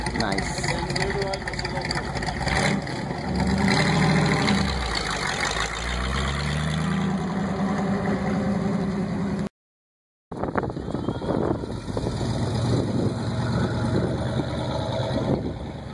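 A Honda S600, left-hand drive, idles at an outdoor car show, its engine a continuous rumble under wind noise and nearby voices, with a brief dropout midway.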